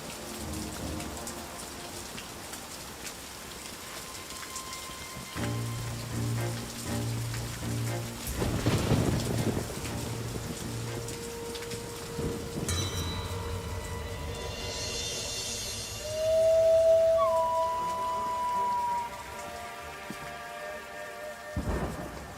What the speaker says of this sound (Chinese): 风大雨急